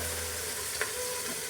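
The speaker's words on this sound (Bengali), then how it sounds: "ততক্ষণ বন্ধুরা ঢ্যাঁড়সটা ভাজা হোক" Okra fries slowly over a low gas flame in a covered pan, a soft, steady sizzle with a single small pop, no voices.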